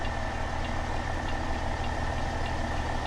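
Kenworth W900 truck engine idling in American Truck Simulator, a steady deep diesel rumble with a faint rhythmic ticking, continuous and fairly loud throughout.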